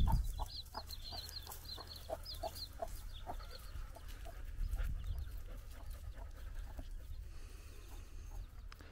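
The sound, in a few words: dogs panting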